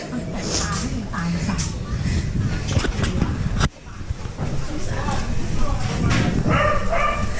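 A dog barks and yips amid busy background noise, with people talking throughout and a brief dip in sound midway.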